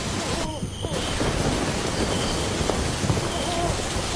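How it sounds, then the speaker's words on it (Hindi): A thunderstorm with heavy rain beats down steadily and loudly, with thunder rumbling throughout, used as a sound effect in a narrated horror story. "कुछ समय बाद बारिश बहुत तेज हो गई। आसमान में जोर जोर से बिजली कड़कने लगी।"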